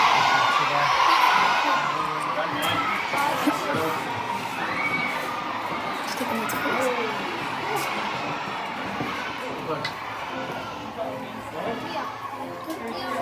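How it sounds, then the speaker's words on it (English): Primary school children cheering at a Common Riding event, a loud sustained crowd of young voices shouting and whooping together, gradually easing but continuing throughout. "Let's hear you all cheer."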